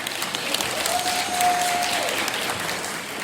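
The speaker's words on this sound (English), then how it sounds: "give yourself a round of applause" An audience at a school winter showcase program claps in sustained, even applause, a dense wash of many hands filling the hall for a few seconds.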